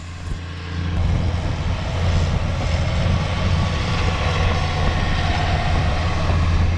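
A tractor applying anhydrous ammonia in a spring field makes a loud, steady engine drone with deep rumbling. It stays close and continuous throughout, with no voices.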